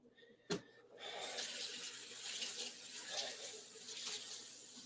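Tap water running steadily into a sink after a sharp knock, a continuous close hiss and splash that carries on without speech.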